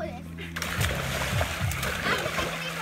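Someone jumps into a backyard pool, giving a loud, close, sustained splash and sloshing water, with children's voices heard around it.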